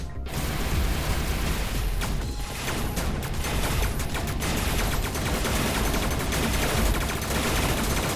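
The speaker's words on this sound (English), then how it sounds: "now he's hiding in the back using a thermogun at us" An enemy thermogun fires in the space combat game Everspace 2, a loud, continuous stream of rapid crackling shots with mechanical clatter, sustained throughout without talk.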